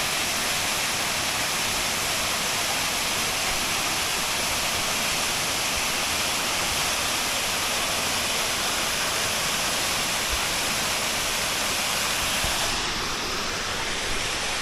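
The Great Volcanic Waterfall roars in a dense, constant rush of falling water that stays loud and unbroken throughout, with no other sound rising above it.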